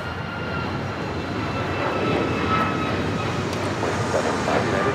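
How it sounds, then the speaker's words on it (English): An Alaska Airlines Boeing 737 MAX 9 takes off from Los Angeles International Airport, its engines making a steady, broadband roar that holds loud and even for the whole stretch, with no voices over it. "This is Alaska Airlines 1418 taking off to Guadalajara on the MAX 9."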